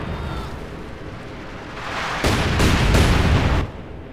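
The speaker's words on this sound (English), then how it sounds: "Artillery barrage." Artillery barrage in the real-time strategy game Company of Heroes 2: a dense, rumbling roar of distant shelling under battle noise, swelling into a louder sustained burst of impacts near the end.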